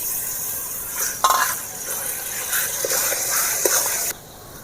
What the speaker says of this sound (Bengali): রসুনটা ভালো করে ভেজে নিয়েছি যাতে কাঁচা গন্ধটা না থাকে।